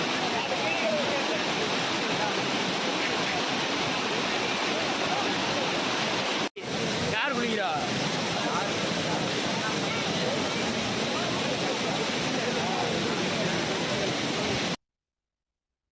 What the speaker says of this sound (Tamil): பாறைகளில் மோதி அருவியாக கொட்டும் காட்சி காண்போர் கண்களுக்கு பெருவிருந்தாகும்.